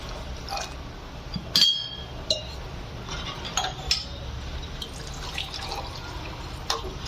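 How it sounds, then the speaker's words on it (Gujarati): Water goes into cooked dal with onion and tomato for sambar, heard as scattered drips and light splashes with a couple of faint clinks against the pot, fairly quiet throughout. "બીજું થોડું પાણી રેડશું."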